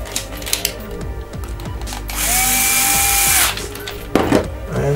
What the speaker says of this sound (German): Ich fange jetzt erstmal mit den kleinen mittleren Schrauben an. Natürlich mit dem richtigen Bit.